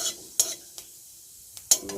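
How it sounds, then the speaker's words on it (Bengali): Cumin seeds fry in hot oil in a kadai while a spoon stirs them, quiet sizzling broken by a few sharp scrapes and clinks against the pan. "জিরেটা একটু ভেজে ভেজে নিয়ে"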